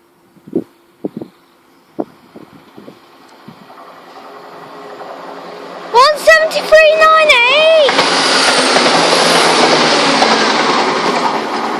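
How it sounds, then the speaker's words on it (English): An HST high speed train approaches at Attenborough, opening with a few sharp clicks, then a loud two-tone horn, then a roaring rush as the train sweeps past close by and stays loud to the end. "I think we got another train. Okay, we've got HST on the way."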